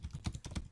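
Fingers tap out an SQL query on a computer keyboard in a quick, uneven run of soft, close keystrokes, about eight clicks in under a second.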